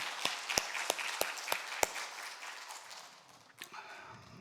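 Quiet, evenly spaced claps ring out in a church congregation, about six crisp hits in a slow, regular rhythm, then fade into soft room noise with a faint rustle near the end.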